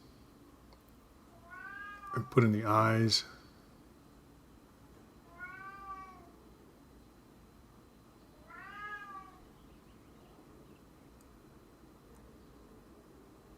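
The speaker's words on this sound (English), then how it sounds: "You can hear my cow cat in the background yowling." A cow cat yowling in the background of a home room, three separate drawn-out meows, the first loudest and longest, the later two fainter and spaced apart, with a brief quiet spoken line.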